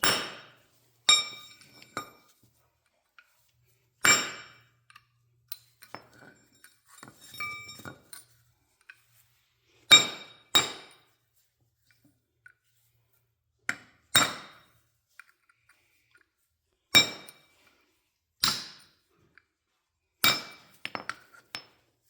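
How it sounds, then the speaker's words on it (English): Sharp metallic clinks ring out one at a time, spaced a few seconds apart, as a hammer strikes a metal punch knocking out brake rivets on a John Deere tractor; quiet between blows. "I'm just going to use this to kind of hammer these out with a punch"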